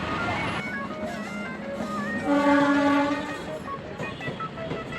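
A train rumbles past with a rushing roar, and a horn sounds in the middle, swelling louder then fading into steady rolling noise.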